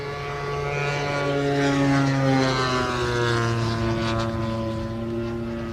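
A propeller aircraft makes a low pass down the runway at the Elvington airshow, its steady droning engine note holding loud and close throughout, with the pitch sliding gradually lower as it passes.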